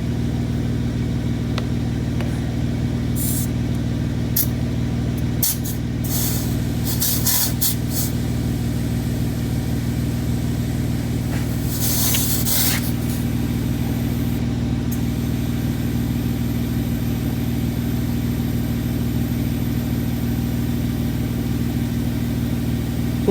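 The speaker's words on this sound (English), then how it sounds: "Putting the air in it right now. Compressor just turned on" Air compressor running steadily to inflate a vehicle's tires before heading out on a trail, a constant droning hum with strong low tones throughout, joined by a few brief hissy bursts.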